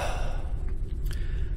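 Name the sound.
breathing sound effect while sleeping in the Forever Skies video game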